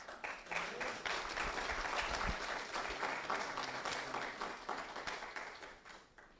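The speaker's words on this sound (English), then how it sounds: "I really want to give this graduating class a round of applause" A crowd at an engineering school graduation conference applauds steadily, a dense wash of many hands clapping at full strength before tapering slightly toward the end.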